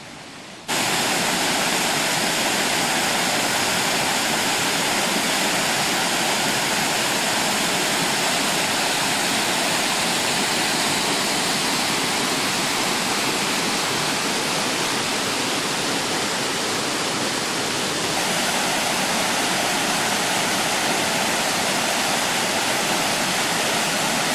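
A waterfall roars in a steady, dense rush of falling water, loud and unbroken from start to finish, with no voices.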